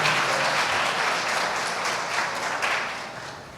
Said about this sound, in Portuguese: Vamos aplaudir a Jesus por esses nossos irmãos aqui.